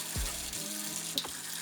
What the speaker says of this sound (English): here we have a multifunctional, unique tap/sink, which has 5 different modes to it